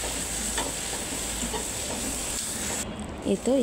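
Spices for a rohu fish-head ghonto with cumin powder are stirred in a hot pan, a continuous loud sizzle with scraping mixing strokes, and a brief voice surfaces right at the end.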